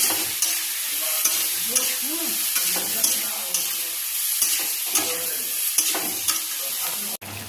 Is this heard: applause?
no